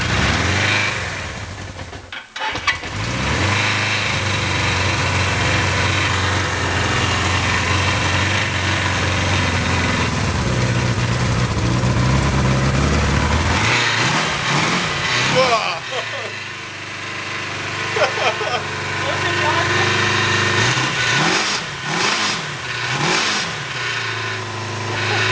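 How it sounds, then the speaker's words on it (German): A Suzuki GSX 750 S Katana motorcycle engine with its original exhaust runs close by, idling loudly and then revving up and down several times, while people talk over it. "nun die Katana mit originaler Auspuffanlage."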